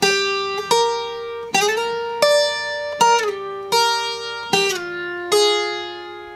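A requinto guitar riff played slowly, with single plucked notes and slides, about eight clear attacks with ringing decays and gliding pitch between some notes, loud and alone with no talk.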